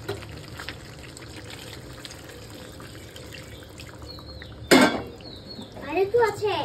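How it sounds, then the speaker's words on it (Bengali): Water is poured into a pot of cooking chicken on a home stove, a short splashing gush near the end after a low kitchen background with quiet voices. "এবার আমি জলটা দিয়ে দিই।"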